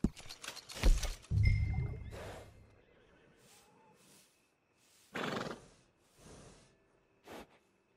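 A horse in Red Dead Redemption 2 neighs in a loud whinny, then snorts and blows a few times with short quiet gaps between.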